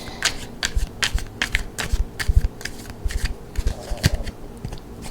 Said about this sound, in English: let me just throw a tarot card on there to clarify